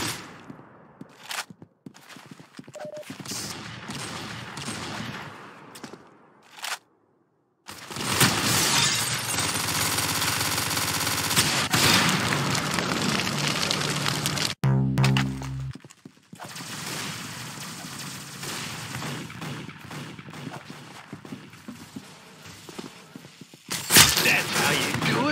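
Gunfire rings out in the Anomic SWAT video game, with dense, sustained bursts of shots separated by a few brief silent gaps and a final sharp burst near the end.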